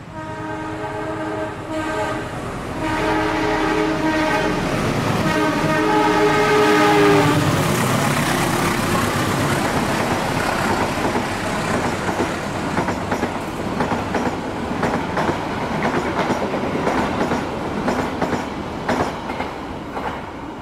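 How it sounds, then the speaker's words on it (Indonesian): A train sounds its horn in long blasts, then rumbles past close by with a steady clickety-clack of wheels on the rails, at Solo Jebres station, Indonesia. "Wah, ini ada kereta api yang mau lewat nih."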